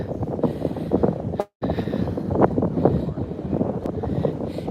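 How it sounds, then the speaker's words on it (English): Strong wind buffets the microphone on a bridge at a coastal crab dock in Winchester Bay, Oregon, a loud continuous roar that drops out for a moment before surging again. "I know it's really windy where we are right now"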